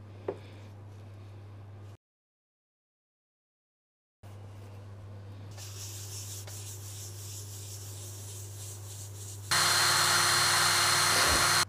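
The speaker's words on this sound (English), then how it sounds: "Okay, now that's all buffed up" Continuous rubbing and sanding hiss with a steady low hum as a wooden bowl is buffed on a lathe, cut by a short silence, then growing harsher and louder near the end.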